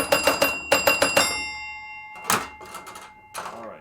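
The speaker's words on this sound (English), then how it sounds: "I'm sorry about all the bells." Pinball machine bells on a Space Ship table ring out in quick bursts, several sharp metallic strikes in a row followed by ringing tones that decay, then a couple of further isolated chimes; no talk over them.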